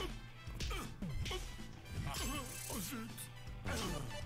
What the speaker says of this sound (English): After you dodge, then you can land punches to his face.